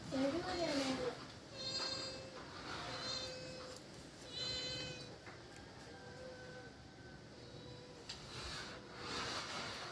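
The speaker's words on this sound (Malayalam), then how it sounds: "ഇയാളങ്ങ് നിൽക്കുവാങ്ങ് മ്യാവും മ്യാവും" A cat meows several times in short, high cries spread across the clip, with a louder call at the start and a low background hum.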